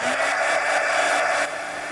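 A heat tool blows steadily while drying paint on a mixed media art journal page, a close, even whooshing hiss that drops slightly in level near the end.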